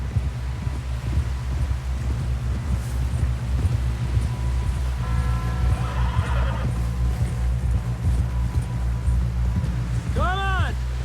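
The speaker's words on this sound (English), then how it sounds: "Someone help John down off this horse." Horses in the video game Red Dead Redemption 2 gallop with a steady, rhythmic hoof pulse under wind, and a sharp neigh rings out near the end, with voices talking over the scene.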